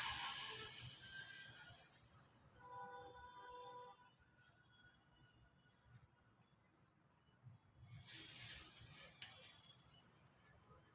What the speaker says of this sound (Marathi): तयार फोडणी आपण या कढीवर घालूया.